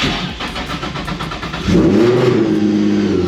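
A supercharged Nissan 350Z engine with a Procharger cranks on a cold start, then catches and roars to a loud, steady high idle, close by.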